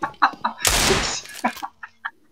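A chicken clucks in a video game: a few short, sharp clucks, then a loud burst of squawking and flapping, followed by more scattered clucks that fade out.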